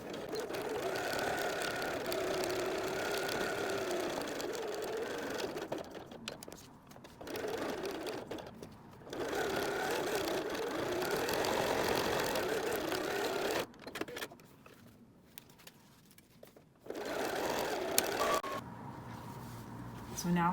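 A sewing machine runs in long continuous bursts, stitching a 3/8-inch seam along the short side of a messenger bag and pausing briefly between runs, with a voice talking over the stitching.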